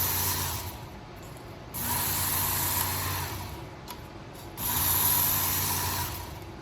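A powered belt sharpener runs a 600 grit belt while a knife is drawn across it. A steady mechanical whir swells into two louder grinding passes with quieter motor hum between them.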